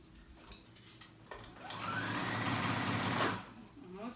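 Sewing machine stitching around a cover-up garment, a steady mechanical whir that rises from about one and a half seconds, runs loudly for roughly two seconds, then stops amid quieter room noise.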